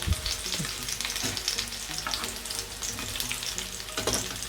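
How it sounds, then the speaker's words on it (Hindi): Chapli kababs fry in hot oil with a loud, continuous crackling sizzle close by, broken by small bursts of spattering and no voices. "तो मैं सारे फ्राई कर लूँ"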